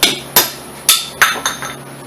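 Hammer blows on the wheel hub and axle of a 1999-2007 GMC Sierra during a wheel bearing replacement: five sharp, loud metallic strikes at irregular intervals, close up, with no talking.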